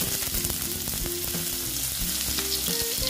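Teasel gourd goes into a hot pan for a poppy-seed vegetable dish and sizzles steadily and close, a dense continuous frying hiss with faint clinks and scrapes throughout.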